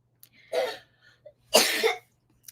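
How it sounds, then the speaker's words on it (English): Two separate coughs from a young child, close and fairly loud, with a short quiet gap between them. "My baby's coughing."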